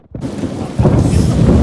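Heavy rain pours down with rolling thunder in Ajmer, a loud, steady broadband roar that swells sharply after a brief quiet start and stays dense to the end.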